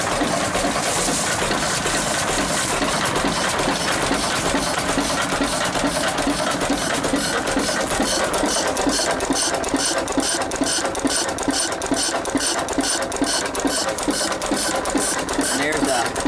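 A vintage Sattley stationary engine runs steadily with an old flat belt turning, a dense continuous mechanical clatter with fast rhythmic ticking throughout, close and loud, with people talking over it at times.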